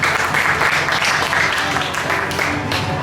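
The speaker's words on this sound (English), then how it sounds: "Give them a round of applause, everybody." An audience at a county fair show in Iowa applauds, a dense, steady wash of many hands clapping close by that holds at the same level throughout.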